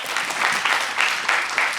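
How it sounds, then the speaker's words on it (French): An audience applauds steadily, a dense patter of many hands clapping together, sustained and fairly loud throughout. "On va applaudir très très fort."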